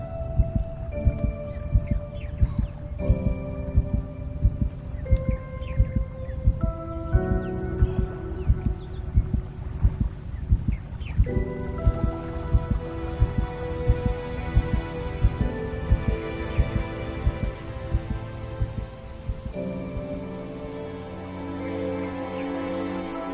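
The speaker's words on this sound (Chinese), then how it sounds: "在主人心动的时候，凤鸣岛会发出心跳的声音。" Heartbeat sound effect in a Chinese fantasy romance drama: steady, evenly spaced low thumps that run throughout beneath a sustained orchestral music score, with no talking.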